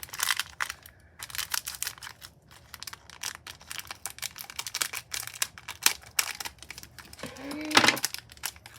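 Blade or scissors cutting open plastic packaging of a Pullip Make It Own doll kit, a run of close, quiet crackles and snips in irregular bursts, with a brief voice near the end.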